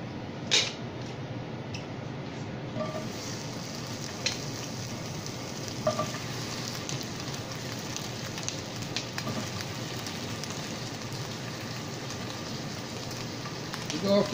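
Brussels sprouts sizzle and fry in a hot pan, a steady crackling hiss close by with a few sharp clinks and pops, and a voice speaks over it.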